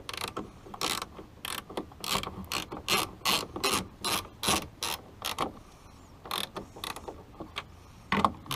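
Ratchet wrench tightening towing mirror bolts on a Silverado pickup, rapid close clicking strokes in repeated bursts with short pauses between them.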